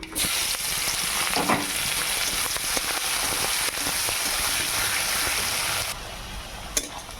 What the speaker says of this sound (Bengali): আলু ভাজার তেলগুলোতে পেঁয়াজগুলোকে ভেজে নেব